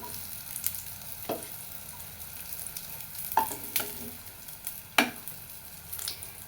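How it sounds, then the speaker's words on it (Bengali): Pointed gourd fries in a pan, a quiet continuous sizzle punctuated by several sharp scraping taps from a spatula, spaced irregularly, with no voices. "খুব সুন্দর মতো পটলগুলো 2 পাশ ভাজা হয়ে গেছে।"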